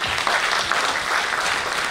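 An audience at a Tamil special program on patriotism bursts into loud, dense applause to welcome a speaker to the stage, sustained for about two seconds and then cut off abruptly.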